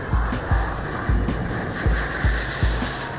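Iranian Kosar fourth-generation fighter jet engine roaring steadily, with a broadband rumble and a repeating low thump roughly every half second throughout.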